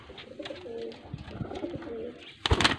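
Pigeons at a home loft in Faisalabad give soft, repeated throaty coos close by, with a louder burst of rustling or wing noise near the end.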